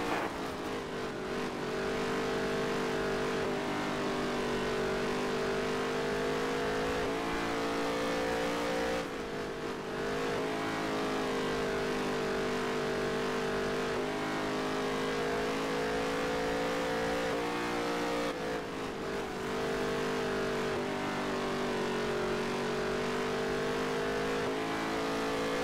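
A NASCAR race car engine in NASCAR Heat 3 drones loudly and steadily, its pitch swelling and easing in long cycles with brief dips, and nearby cars are heard alongside it.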